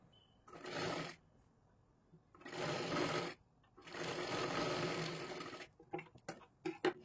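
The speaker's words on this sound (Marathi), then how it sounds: "आणि पूर्ण शिलाई मारून घ्यायची आहे" A sewing machine stitches the front panel of a size 32 four-tuck blouse in three sustained whirring runs, close and clear, followed by several short stuttering bursts of the needle.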